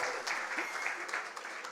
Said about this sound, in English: Give me a round of applause, people.